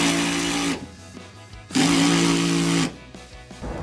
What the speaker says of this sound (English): we take our drill with the 13mm socket,